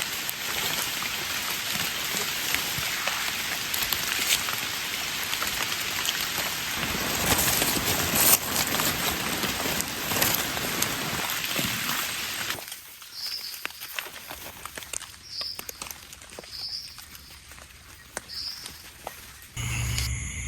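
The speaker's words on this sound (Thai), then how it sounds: "โอ้ฝนไหม มาตกยังงามนี้" Steady rain falling outdoors during mushroom gathering, a dense continuous patter that drops to lighter, sparser drops with a few distinct splashes near the end.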